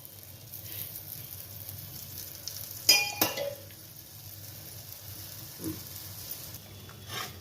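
Besan flour dosa crackling softly in oil on a pan, a steady faint sizzle with a couple of sharp metallic clinks from a spatula partway through.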